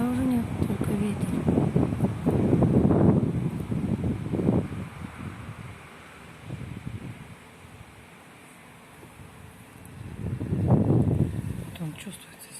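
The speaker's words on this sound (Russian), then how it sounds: "Но дождя уже нет, только ветер." Strong night wind gusts through an open window, rising and falling in broad roaring surges with quieter lulls between, heard after rain has stopped.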